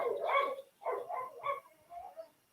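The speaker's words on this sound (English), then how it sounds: "It's nice to have a dog around." A dog barks indoors, four or five quick, moderately close woofs and yips in an uneven burst, fairly soft and heard alone.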